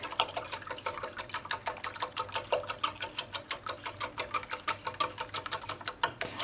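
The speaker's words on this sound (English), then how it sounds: "we're going to whisk this" Fast, steady rhythmic clicking of a whisk beating eggs in a bowl for stir-fried rice, close and moderately quiet, continuing evenly with no talking.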